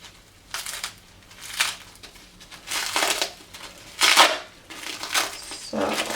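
Crinkly plastic wrapping being pulled open around freshly dyed yarn, heard as several bursts of crackling and crumpling at close range with short pauses between them.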